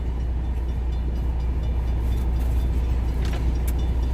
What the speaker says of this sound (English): Train's gonna pass soon, hopefully.